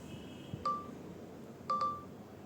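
Three short electronic beeps sound from an Infinix Note 40 Pro 5G camera timer, one alone and then two close together, over a quiet room hum.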